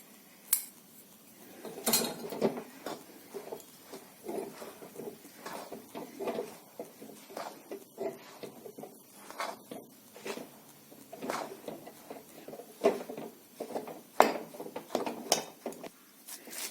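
Fenugreek laddu ingredients being stirred into jaggery syrup, with a spoon scraping and clinking against a metal pan in irregular close taps and scrapes, fairly quiet with no talk.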